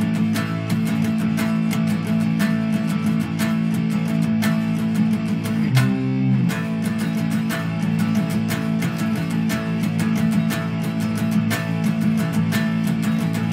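An electric guitar plays a fast power-chord riff in E standard tuning, with rapid, steady chugging strums that continue without a break and a short ringing chord near the middle, loud and alone.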